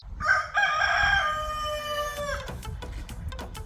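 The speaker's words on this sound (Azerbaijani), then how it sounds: "Sata bilmirsən, nə mənim üçün banlayırsan, hə? Ay xoruz." A rooster crows once, a long loud drawn-out call close by that breaks off sharply, followed by faint clucking and rustling.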